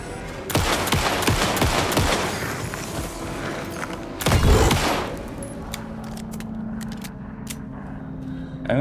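Gunfire in the Alan Wake 2 video game: a rapid burst of loud shots in the first few seconds, a second heavy blast mid-clip, then sparse scattered cracks over a low rumbling game ambience.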